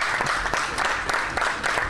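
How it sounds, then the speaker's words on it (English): Audience applause at a community gathering, a short burst of dense, steady clapping from a crowd, fairly close and loud throughout. "Let's give him a big round of applause."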